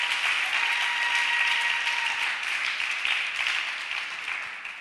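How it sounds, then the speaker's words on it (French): A church congregation applauding to praise the Lord, a dense sustained clapping from many hands that swells and then slowly fades, heard alone. "Est-ce que nous pouvons encore acclamer le Seigneur pour la vie de son serviteur?"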